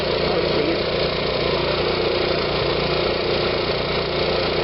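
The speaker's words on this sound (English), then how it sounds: "If anybody sees any issues with my generator, please bring it to my attention." An RV generator engine runs at a steady idle, its loud and constant mechanical drone and hum holding unchanged throughout with no voices.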